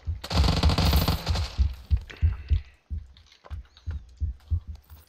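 Rapid bursts of machine gun fire in a video game, mostly an MP5 and a commander's machine gun, come loud and close, one dense burst and then a string of shorter clattering volleys.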